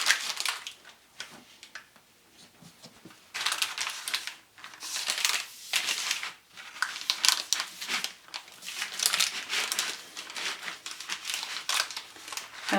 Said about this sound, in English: We're going to take more shortening and grease our parchment paper.